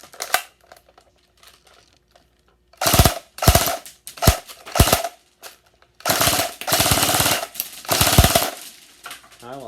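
Airsoft AUG rifle being test-fired after disassembly work, giving short sharp bursts of rapid shots: a few quick separate volleys, then longer sustained strings of fire, loud and close with brief pauses between.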